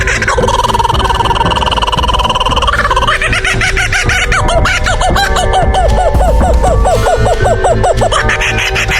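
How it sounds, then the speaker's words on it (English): A kookaburra gives its loud cackling laugh, a run of rising and falling hooting notes that grows more rapid and excited over several seconds, with no talking. "Heard the kookaburra."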